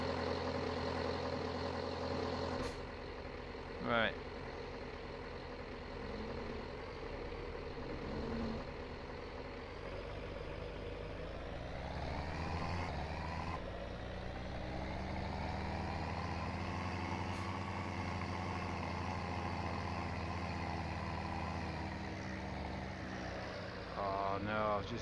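A tractor engine in the game Farming Simulator 17 runs steadily with a low, droning hum that shifts in pitch as it drives, under brief male speech.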